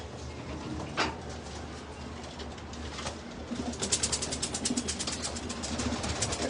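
Pigeons coo softly at close range, with low murmuring calls and occasional wing or cage rustles. The sound grows busier and brighter in the latter half as more birds stir.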